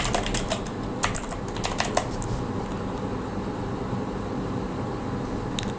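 Someone types thumbnail text in Canva on a computer keyboard, a quick cluster of close key clicks over the first two seconds, then a soft steady room hum.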